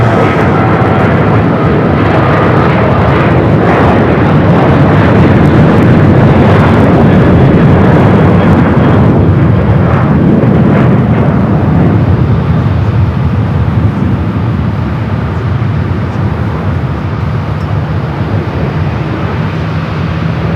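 Jet taking off from runway 25 right at Phoenix Sky Harbor Airport, a loud, sustained engine roar that swells and then slowly recedes while staying strong throughout, with no talking.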